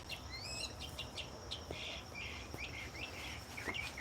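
A mockingbird sings a quick run of varied chirps and tweets, faint and somewhat distant, over a low background hum with no talk.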